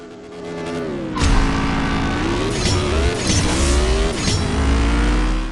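Drag race car engine in the CSR 2 mobile racing game revving loudly and continuously, with rising and falling pitch through gear changes and a brief tire squeal near the start.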